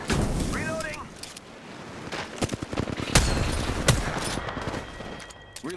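Video game gunfire: rapid bursts and sharp single shots crackle loud and close, with a booming impact midway, mixed with game voice lines and talk.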